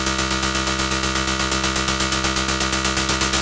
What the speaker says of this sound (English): you want to listen to how much noise comes through your filter